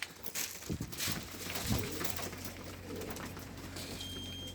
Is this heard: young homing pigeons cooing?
yes